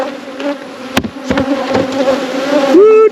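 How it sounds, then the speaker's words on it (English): Dense honey bees drone loudly at an open hive during a beekeeper's final hive check, a continuous close buzz with a few sharp knocks and a rising whine near the end. "look at all them bees"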